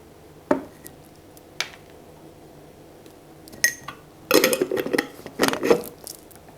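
A utensil stirs eggless olive oil mayonnaise in a bowl, starting with a few isolated taps and clinks, then building into quick, clattering scrapes and knocks against the container.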